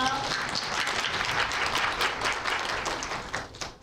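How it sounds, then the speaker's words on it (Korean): An audience at a university student information session applauds to welcome a speaker from the international exchange center, steady broadband clapping filling the hall for several seconds before fading. "큰 박수로 맞아주세요"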